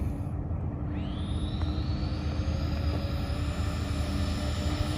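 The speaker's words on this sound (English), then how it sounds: "Lifting off in midfield, climbing out." A Freewing AL-37 RC jet takes off with half flaps, its electric ducted-fan whine rising steeply in pitch and then holding loud and steady as it climbs, with no talking.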